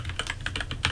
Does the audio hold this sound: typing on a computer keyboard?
yes